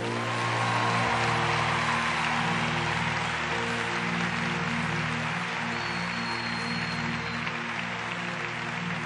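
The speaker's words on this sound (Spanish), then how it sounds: "Dele un aplauso al Señor." A church congregation applauds God during a worship service, a dense, continuous wash of clapping with a steady musical hum underneath, loud and sustained throughout.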